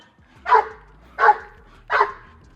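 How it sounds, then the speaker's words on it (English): A big Boerboel dog gives three loud, deep barks spaced evenly about three quarters of a second apart, close by in an otherwise quiet space. "you hear that loud belly bark"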